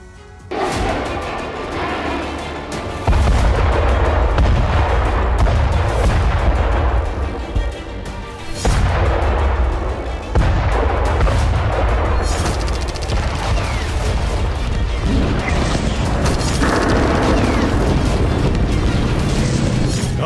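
Bombs falling on Gaza explode in a series of heavy, booming blasts, loud and close, rolling into one another with sustained rumbling between impacts.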